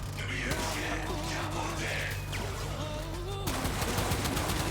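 An automatic weapon fires continuously in the video game Warframe, a dense rapid stream of shots under game effects, with a fresh burst starting near the end.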